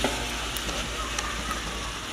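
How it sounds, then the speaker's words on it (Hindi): Boiled beef frying in a tomato and onion masala paste, a steady, close sizzle with faint stirring running throughout. "इसे 4-5 मिनट भून लेंगे सभी मसालों में"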